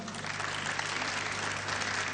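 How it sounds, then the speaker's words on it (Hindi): Audience applause at the SEE Pakistan 2023 event in Pakistan, a steady, dense wash of clapping sustained throughout at even loudness, with no voices over it. "तो नबील के लिए तालियां।"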